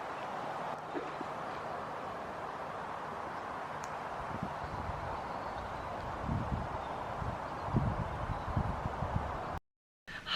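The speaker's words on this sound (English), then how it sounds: "the wind is wild" Strong outdoor wind blows as a steady broadband rush with gusty buffeting against the microphone, accompanied by faint rustling and a few soft thumps, then a brief cut to silence.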